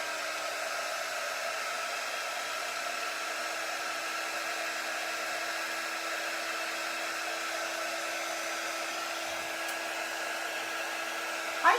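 A hair dryer blows steadily on a chalk-painted spring bee craft, a constant close, even whoosh that holds at the same level throughout with no talking.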